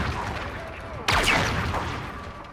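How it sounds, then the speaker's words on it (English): Anvil cannons blast away at capital ships in the space combat of Call of Duty: Infinite Warfare, one sharp loud boom cutting through steady engine noise and trailing into a sweeping, fading whoosh. "these anvil cannons really do make capital ships a joke"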